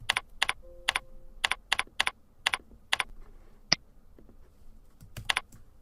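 Keys clatter on a computer keyboard while a topic name is retyped, close and crisp keystrokes in quick clusters with short pauses and a single sharp click between them.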